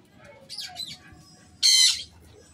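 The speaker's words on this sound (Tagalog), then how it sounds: "May ibon na naman na tumatawag na" Outdoors, a bird gives a few short squawking calls, then one loud, harsh squawk close by, over quiet background noise.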